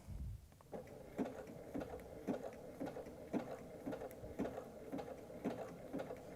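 A sewing machine zigzag stitches a nine patch quilt apron, a quiet, close, evenly paced mechanical chatter repeating about twice a second after a brief start.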